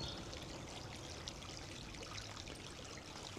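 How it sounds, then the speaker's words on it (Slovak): Faint, steady trickle of water running among stone buildings and bridges in Erfurt, a soft babbling flow with light splashes and no voices. "Neviem, či počuť na mikrofón tú vodu, jak tu čerka pekne."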